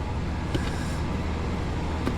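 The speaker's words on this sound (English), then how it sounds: "Sorry about the fan noise," A fan runs with a steady broadband whoosh beside indoor worm bins, loud and constant for the whole stretch, with no speech.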